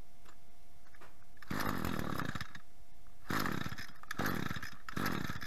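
A small two-stroke engine on a chainsaw or brushcutter runs while burning off the fuel left in its carburetor, rising in repeated loud revving bursts between quieter idling stretches, close by and without talk.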